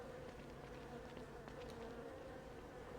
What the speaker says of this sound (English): they both sound like bees. Beehive sounds.